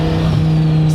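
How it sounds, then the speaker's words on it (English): A 2002 twin-turbo Dodge Viper V10 drones loud and close with a steady low engine note, held alone for just under a second. "Plus you get that Viper sound, which is really divisive."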